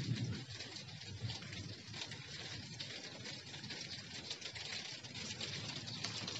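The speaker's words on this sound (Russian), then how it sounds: "Вот опять дождь принялся." Steady outdoor rainfall by a garden lake, a dense even hiss of drops running throughout with no gaps, moderately loud and close.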